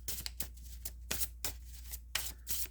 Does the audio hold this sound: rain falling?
no